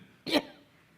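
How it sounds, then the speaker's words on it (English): A woman gives one short, sharp cough at a women's forum gathering, heard close to a microphone in an otherwise quiet room. "I don't smoke, I don't know why I cough sometimes"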